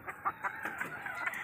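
A rooster on a farm crows among hens, a clear close call with a rising, drawn-out shape, accompanied by a few short clucking notes from nearby fowl.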